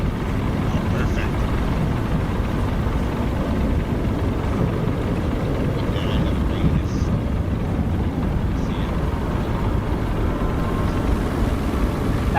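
Steady, loud engine and propeller drone of a light STOL aircraft taking off in Microsoft Flight Simulator, a dense continuous roar that holds constant throughout with no pauses.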